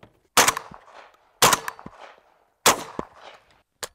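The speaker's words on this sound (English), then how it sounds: "So I'll just do a few test shots here." Three loud, sharp shotgun blasts from a Beretta A300 Ultima fired outdoors, spaced about a second apart, each with a short rolling echo, followed by a faint metallic clack at the end.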